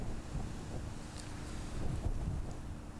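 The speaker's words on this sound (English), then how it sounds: "The constant wind makes it all worse, blowing sand endlessly across the landscape." Steady wind gusting over an exposed desert landscape of eroding earth, blowing sand along; a continuous low rushing roar with mild swells in strength, close and fairly loud throughout.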